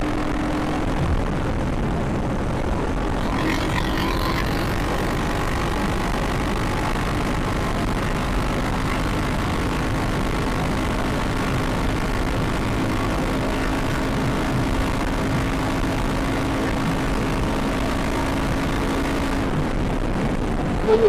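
A 450 motorcycle with a faulty third gear that sticks between gears runs under a rider, giving a steady droning engine and wind roar that holds at an even level throughout.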